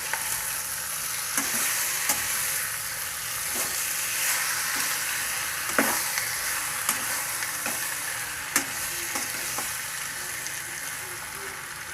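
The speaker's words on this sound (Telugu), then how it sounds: "అలాగే మనం ముందుగా నానబెట్టి ఉంచుకున్న చికెన్ వేసుకోవాలి." Marinated chicken for egg chicken biryani sizzles and fries steadily in a pot with bay leaves, a continuous moderate hiss broken by occasional sharp pops and stirring scrapes.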